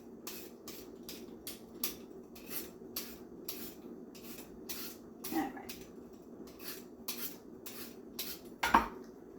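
A kitchen utensil peels a cucumber in a rhythmic series of short, soft scraping strokes about half a second apart, quiet and close, with a slightly louder knock near the end.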